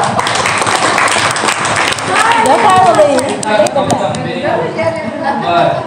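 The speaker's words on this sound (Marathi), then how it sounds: "टाळी वाजवा" A crowd breaks into applause, a dense wash of clapping with voices and chatter mixed in, fairly loud and close throughout.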